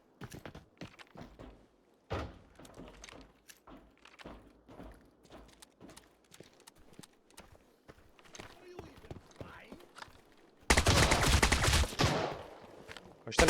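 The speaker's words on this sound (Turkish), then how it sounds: "Şurada şu iki mermiyi at atacağım şuna." Footsteps and small clicks of movement in the video game Arena Breakout Infinite give way to a sudden, loud burst of close gunfire near the end, while a voice talks quietly now and then.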